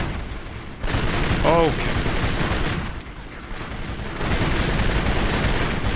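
Bursts of gunfire rattle through a firefight in the shooter Kane & Lynch: Dead Men, dense volleys with brief lulls, loud and continuous, while a voice speaks briefly over the noise.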